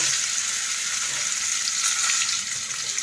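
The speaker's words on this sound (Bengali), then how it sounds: "এবার জিরে ফোড়ন দিয়ে দেওয়া হচ্ছে তার সাথে এবার আলু আর সজনে ডাটাগুলো দিয়ে দেওয়া হচ্ছে" Potatoes and drumstick pieces frying in hot oil with cumin seeds, a steady close hiss and crackle of sizzling with no talking.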